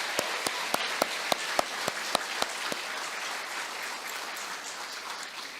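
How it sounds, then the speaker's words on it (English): Applause from a crowd at an elementary school awards ceremony, with crisp, evenly spaced claps standing out for the first few seconds before settling into a steady wash of clapping. "Let's just give them a round of applause."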